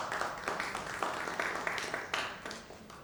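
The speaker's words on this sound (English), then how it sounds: "I think it deserves a big round of applause." Audience applause at a health conference, a few seconds of clapping in uneven bursts at moderate loudness, heard alone.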